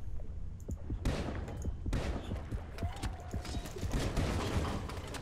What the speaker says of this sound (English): I'm gonna keep the spear pistols because I think they're quite nice. If I hit them once at least.